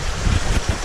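Water pours into a koi pond shower-tower filter, a steady close rushing and splashing wash with low burbling pulses, continuous and loud, no voices.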